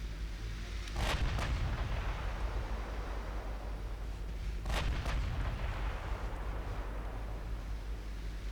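Warship guns firing in the naval battle game Ultimate Admiral Dreadnoughts, with a Mk1 superdreadnought engaged: two heavy booming salvos, each a pair of close blasts, over a steady low rumble of background battle noise.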